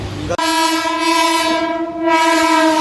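A train horn blares loud and close in one long, steady blast lasting nearly three seconds, after a brief moment of rumbling noise, as the train stops near Parel station in Mumbai.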